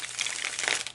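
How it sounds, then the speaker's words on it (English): A deck of tarot cards is shuffled up close, giving a brief papery riffling and crinkling that runs steadily for about a second with no talking. "I'm going to take a few moments to shuffle the deck"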